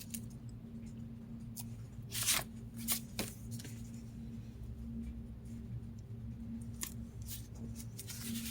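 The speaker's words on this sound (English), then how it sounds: "I can't even cut straight." Scissors snip through card stock for a handmade journal in a few quick, close cuts, followed by light handling noises over a quiet room hum.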